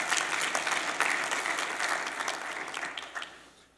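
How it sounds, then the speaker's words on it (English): A church congregation giving a round of hand clapping, a full steady burst of many hands that holds for a few seconds and then gradually tapers off. "Come on, give God a good hand clap."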